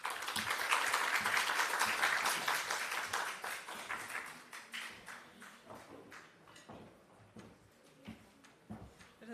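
An audience at a national health research conference applauds after a presentation, with loud, dense clapping at first that thins after a few seconds into scattered, fading claps.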